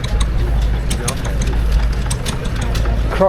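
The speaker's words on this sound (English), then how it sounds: "And a massive selection of stationary engines." Vintage stationary engines, Crossleys among them, run at the National Ploughing Championships in Ireland, a steady low idling throb with a rhythmic knocking pulse, close and continuous, while people talk nearby.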